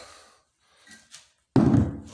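A heavy metal door swings and knocks shut with a loud clank that rings briefly, after a few faint quiet movements.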